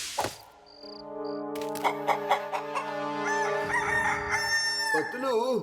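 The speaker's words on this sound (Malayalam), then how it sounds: "ഉറുമ്പുകളുടെ ലോകത്തും കോഴി കൂവാറുണ്ടല്ലേ?" A cartoon rooster lets out a long, loud, drawn-out crow with wavering pitch in a Motu Patlu animated scene set in the world of ants, preceded by a few short, high chirps like insects, with no talking.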